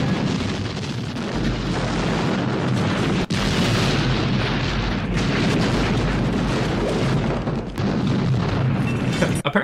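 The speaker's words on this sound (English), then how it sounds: "Apparently, this explosion is what does the damage to the reactor" A loud, sustained rumbling film explosion from Aliens (1986) with heavy low-end roar and crackling debris, continuous for several seconds.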